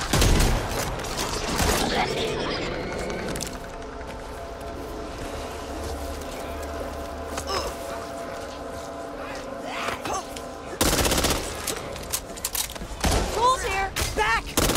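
Gunfire in the zombie shooter Back 4 Blood, bursts of shots at the start and again near the end over a busy game mix, with a player talking throughout.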